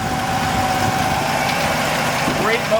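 A 1950 Dodge pilot house five-window dually pickup idles with a steady, close engine rumble throughout, with a person talking over it.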